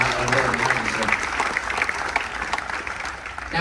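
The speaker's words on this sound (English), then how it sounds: "We'll give a round of applause for" Audience applause for veterans of Operations Northern Watch and Southern Watch at a military tribute aboard the Carnival Dream cruise ship, steady, full clapping from a room of people with voices mixed in.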